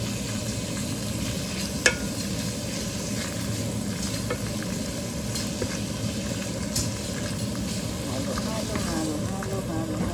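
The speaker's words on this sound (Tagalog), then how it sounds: "lagay na natin itong tuna para patuyuin natin yung golden brown muna natin" Canned tuna fries steadily in hot cooking oil for sisig, a dense continuous sizzle with occasional stirring scrapes and one sharp clack, close and loud throughout.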